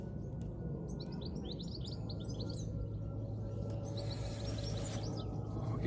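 Small birds chirp in quick twittering bursts over a steady low rumble of wind and ambience beside the water at a fishing venue, faint and somewhat distant.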